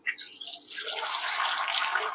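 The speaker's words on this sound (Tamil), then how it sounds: "கோழி கொதிக்குது." Chicken gravy bubbling hard in a pot on the stove, a steady close hiss and sizzle that builds and holds without pause, no voices.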